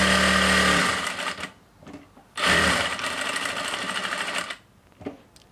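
Sewing machine stitching a pants side pocket, a steady close whirring run of about a second, a short pause, then a longer continuous run of rapid stitching, followed by a quieter tail with faint handling sounds.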